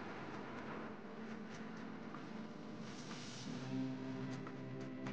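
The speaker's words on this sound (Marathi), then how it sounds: "चला तर मित्रांनो आता ट्रेन आमची निघाली आहे" Rumble of a Mumbai-area commuter train pulling away, heard from a window seat inside the carriage: a low, steady rolling drone with faint rattles, swelling slightly as a tonal hum rises near the end.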